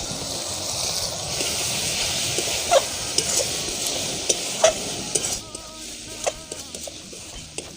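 Ground chilli, cumin, garam masala and coriander powders go into a hot frying pan for chicken singara filling and are stirred, giving a close, steady sizzle with scraping strokes and a few sharper clinks.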